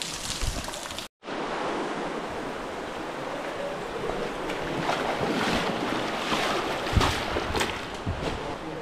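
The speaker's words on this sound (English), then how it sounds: "There's a lot of water falling down." Water pours down inside a cave in a constant loud roaring rush that fills the whole space, briefly cut off near the start, with a few splashes on top.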